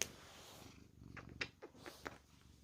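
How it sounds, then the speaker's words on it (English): Faint pet cat purring softly close by, a low rumbling purr with a few small sharp household noises on top and no talking. "And he's purring."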